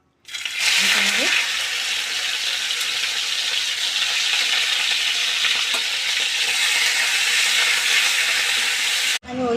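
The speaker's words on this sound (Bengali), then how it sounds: "আমি চিকেনটা ভেজে করে নেবো, একটু ভেজে নেবো।" Chicken fries in hot white oil, a loud dense sizzle that bursts in almost at once and holds steady for several seconds before cutting off sharply, with a faint clink near the start.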